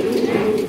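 Pigeons coo in a low, continuous murmur close by, steady and fairly loud with no other sounds over it.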